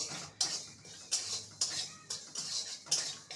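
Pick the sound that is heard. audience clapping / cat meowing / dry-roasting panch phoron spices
dry-roasting panch phoron spices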